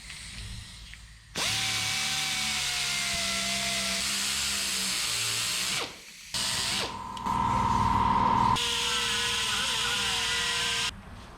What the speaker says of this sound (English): gonna drill some holes and slot this